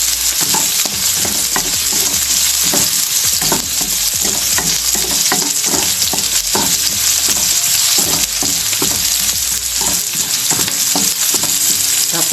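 Onion browning in hot oil for pork igado, stirred in a pan with a continuous close sizzle and steady scraping strokes throughout.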